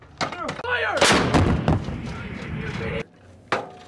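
A U.S. Marines M777 artillery howitzer firing during training, a heavy close blast with a long rumbling decay, another sharp report shortly after, and crew voices shouting around it.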